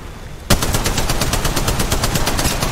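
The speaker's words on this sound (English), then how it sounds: "Contact. Firing. They spotted me. I'm taking shots." Rapid automatic gunfire from a mobile shooter video game bursts in after a short quiet lead-in, a dense sustained volley of close, loud shots with steady rhythm and no talk.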